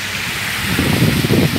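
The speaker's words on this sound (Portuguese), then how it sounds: "Chuva demais, galera. Muita água." Heavy rain pours over a small town square in Aparecida de Goiânia, a steady broadband hiss that thickens and grows louder partway through, with no voices over it.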